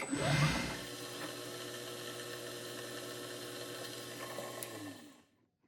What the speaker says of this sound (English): this is a number 44 drill